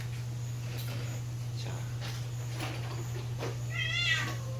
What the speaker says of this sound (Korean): 야이 고양이 울지 마.